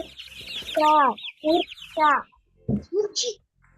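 A voice imitates a chick's calls with a few rising, chirpy sounds, then speaks briefly in Ukrainian; close and clear.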